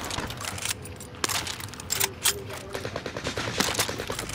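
Bursts of automatic gunfire in the shooter game Warzone, sharp rapid shots with short gaps and a few clicking mechanical sounds, heard at mid distance without talking.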